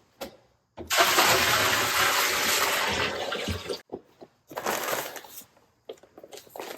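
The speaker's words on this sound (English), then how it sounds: "The first thing I do is pour the water in." Water gushes steadily into a bucket for mixing bee sugar syrup, a loud broadband pour lasting about three seconds, then shorter bursts of splashing after a brief pause.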